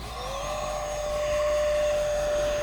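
Arrow Viper brushless 50mm electric ducted fan RC jet in flight, a steady high-pitched whine that rises at the start and then holds loud and constant, with faint broadband rushing beneath.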